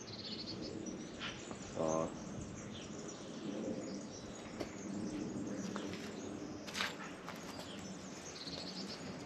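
Birds chirp faintly in the open air around a hilltop castle in San Donato in Poggio, Tuscany, with scattered tweets and a short trilling call over a steady hiss of insects.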